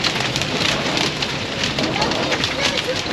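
Steady rain pouring onto hard surfaces, a constant dense hiss and patter, loud and close, with faint voices murmuring underneath.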